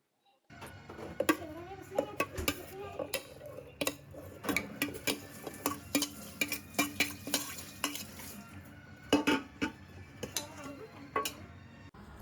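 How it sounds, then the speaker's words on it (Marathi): A spoon repeatedly scrapes and taps inside a metal pressure cooker pot lined with banana leaves as a thick mixed-vegetable mixture for ukadhandi is scooped in, with irregular clinks throughout. "केळीची पानं घातल्यानंतर आपण मिश्रण टाकून घेऊया"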